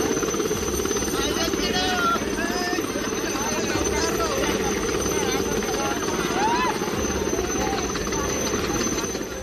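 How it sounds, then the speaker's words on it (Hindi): A rescue helicopter over flood-hit Warangal, its rotor a loud continuous thrum with chopping texture that carries through the whole stretch while a voice talks over it. "उन्हें बचाने के लिए हेलीकॉप्टर से रेस्क्यू ऑपरेशन किया गया।"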